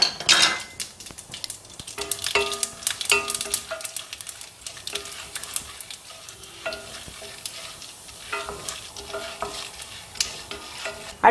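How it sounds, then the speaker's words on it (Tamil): Mustard seeds and chana dal fry in hot oil for a potato masala, with near, busy crackling and popping mixed with a spoon scraping and clinking against the pan in uneven bursts. "இப்போ பாருங்க எண்ணெய் சூடாயிருச்சுங்க. அதில் நம்ம கடுகை போட்டுக்கலாம்."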